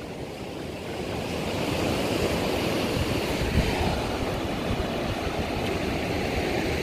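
Sea waves break and wash steadily at a beach in England, a loud, continuous surf roar with wind buffeting the microphone and no voices.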